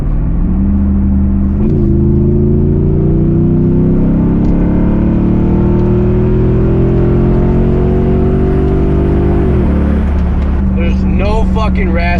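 A Jeep SRT8 V8 with its mid muffler deleted revs at full throttle, a loud, deep exhaust roar that climbs and holds for about ten seconds before dropping back to idle, with a voice briefly heard near the end.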